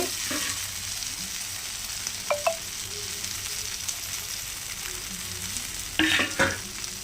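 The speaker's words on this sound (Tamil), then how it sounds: "பாருங்க மீன் போட போகிறேன் போட்டாச்சு" A whole fish fries in hot oil in a home kitchen, a steady loud sizzle throughout with a few brief clinks and a sharp burst of crackling as more oil or fish meets the pan, no talk.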